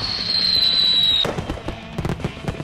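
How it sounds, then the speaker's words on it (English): Fireworks burst in the Dead Pixels zombie game: a whistling rising tone for about a second, then a rapid, uneven string of loud crackling pops and bangs, with no voices. "I use that fireworks there"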